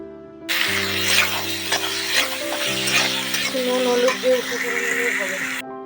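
Chilli and black cumin seeds crackle and sizzle in hot oil, a bright continuous hiss with small pops, under steady musical tones and someone talking.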